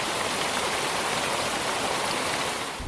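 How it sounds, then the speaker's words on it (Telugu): Badigunta waterfall in the Maredumilli forest roars in a loud, unbroken wash of falling water, steady throughout with no talk. "మారేడుమిల్లిలో ఇంత పెద్ద వాటర్ ఫాల్స్ ఉందని వెళ్ళే వరకు నాకు కూడా తెలీదు"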